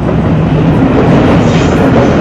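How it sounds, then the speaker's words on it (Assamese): A long freight train rolls past a railway crossing, its steady, loud broadband rumble and rail noise continuous and close throughout, with no talk over it. "মালগাড়ী আহিছে, নহ'ব বহুত দীঘল হ'ব"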